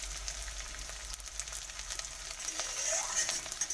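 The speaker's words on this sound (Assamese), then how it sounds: "পিঁয়াজখিনি ৰঙচুৱা বৰণ আহে মানে ভাজি থাকিম" Onions and three green chillies fry in oil with a bay leaf in a wok, a steady, close crackling sizzle running without pause, with occasional stirring scrapes.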